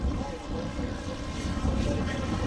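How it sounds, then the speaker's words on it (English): A Fokker V-17 World War I light plane flying after takeoff at a fly-in, its engine drone steady and fairly loud with broadband wind-like rumble throughout. "has just taken off with his Fokker"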